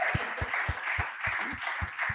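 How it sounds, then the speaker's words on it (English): Applause from meeting attendees: a short run of about nine evenly spaced, fairly close hand claps over a steady background hiss, with no other voices. "You can clap."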